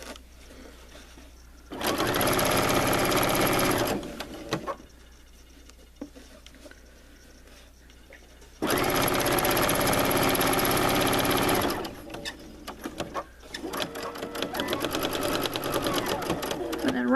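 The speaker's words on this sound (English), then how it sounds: "I'm just stitching right along the edge of where I serged it" A sewing machine stitches along the serged edge of a bath towel in two loud, steady bursts of rapid whirring, separated by quieter pauses with small handling noises, then lighter intermittent mechanical patter.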